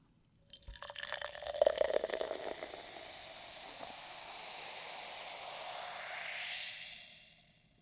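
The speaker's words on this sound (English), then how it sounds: "Let's pour it in the Muppet glass and see what we get color-wise." 7UP Shirley Temple soda in pomegranate and cherry flavors poured into a glass, a bubbling splash that builds then settles into a steady fizzing hiss of carbonation.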